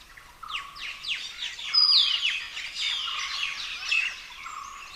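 Many birds chirp and call in quick overlapping bursts in a hot, dry forest where flowering trees are in bloom, a busy chorus at moderate distance with no voices.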